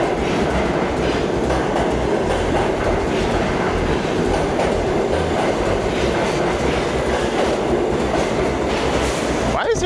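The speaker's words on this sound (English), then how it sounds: "Why is there another train?" A New York subway train rolls loudly and continuously through Atlantic Avenue station near Barclays Center, dense rumbling wheels and clattering rail joints filling the whole stretch close by, with a brief squeal near the end.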